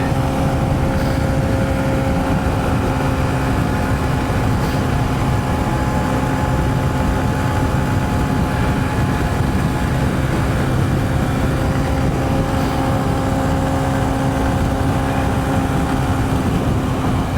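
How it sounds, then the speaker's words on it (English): A 2023 Honda CB125F fitted with a 28mm throttle body, held at wide open throttle: a steady, loud, close engine drone with a constant tone, mixed with wind rush and no change in pitch. "the bike actually feels really good at wide open throttle"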